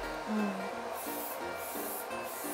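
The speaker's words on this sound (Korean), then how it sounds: "스프레이도 약한 걸 먼저 뿌려주고 붙여줍니다." A light-hold hairspray is misted onto styled hair at a hair salon in a few short, breathy hissing bursts in a row, close by against a low background murmur.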